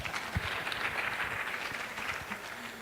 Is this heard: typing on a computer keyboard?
no